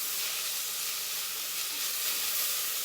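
Meat pieces browning in a pan for Japanese nikujaga give off a steady, even sizzle and hiss that holds at one level throughout, with no voices.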